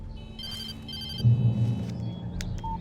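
A telephone rings in a tense scene of the horror video game Alan Wake Remastered, a couple of short ringing bursts over a low ambient rumble, with no one speaking.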